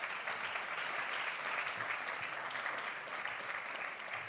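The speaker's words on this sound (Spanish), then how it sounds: "Lo vamos a recibir con un fuerte aplauso" Steady applause from an audience, a dense wash of clapping that holds evenly throughout, moderately distant.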